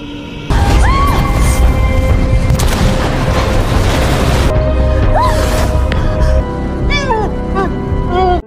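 A bomb blasts out of an opened refrigerator in a drama scene, a heavy booming explosion that stays loud with debris and rumble for several seconds, then tapers, with brief voices and tones layered in.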